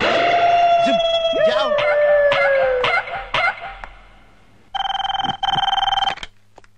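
A telephone rings twice in short, bright, warbling bursts in a Telugu film scene, following a stretch of someone speaking and other sound effects.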